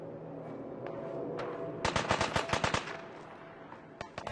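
Enemy gunfire in Fallout 4 crackles as rapid bursts of automatic shots, fairly distant and moderately loud, clustering midway with a few scattered single shots before and after.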